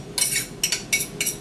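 A utensil scrapes and stirs spices into ground turkey and onions in a pan, making four rhythmic bursts of scraping clinks in quick succession, close and clear with no talking.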